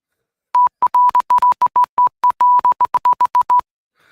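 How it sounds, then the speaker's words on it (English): Morse code tones played through a soundboard: a loud, steady beep repeated about twenty times in roughly three seconds, short dots mixed with a few longer dashes, with nothing else around them. "Now I'm doing Morse code."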